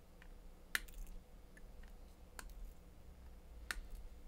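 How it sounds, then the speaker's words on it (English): Side cutters snip the component legs off a soldered arcade supergun circuit board, three or four sharp, isolated clicks spaced over a quiet background. "we can use some side cutters to cut these legs off"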